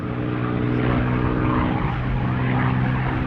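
North American P-51 Mustang flying at the Duxford Battle of Britain Airshow, its propeller engine giving a steady, loud, droning roar with a strong low harmonic hum, continuous and without voices.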